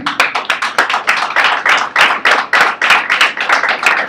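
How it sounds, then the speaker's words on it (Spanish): A church congregation claps for Jesus in a quick, rhythmic unison beat, loud and close, about four claps per second without pause. "Dale un aplauso a Jesús"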